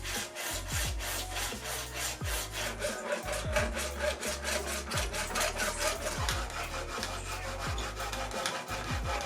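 Hand-sawing an acrylic sheet for a DIY wall-mounted gaming PC case, a steady rasping back-and-forth stroke repeated rhythmically and close up, with no talking.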